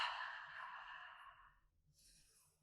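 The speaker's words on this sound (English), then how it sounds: "And it's just in through the nose, out through the mouth." Slow breathwork: one long, soft breath drawn in through the nose and let out through the mouth, close and quiet, followed by a fainter hiss as the next breath begins.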